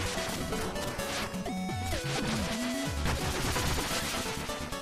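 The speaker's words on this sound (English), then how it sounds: "Just break the exploding blocks, land on the platform, then break the right blocks and grab it." Exploding blocks break in the Shovel Knight video game, a dense, continuous clatter of crashing, popping bursts over busy chiptune music, loud and unbroken throughout.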